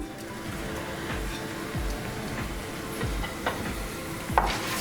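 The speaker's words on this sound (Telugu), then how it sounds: "ఆయిల్ వేడైంది. ముందుగా తీసి పెట్టుకున్న తాలింపు సామాన్లన్నీ దీంట్లో వేసుకుందాం." Chana dal, urad dal, mustard seeds and cumin sizzle steadily in hot oil for tempering, a dense continuous crackle close by with faint stirring clinks and no talk.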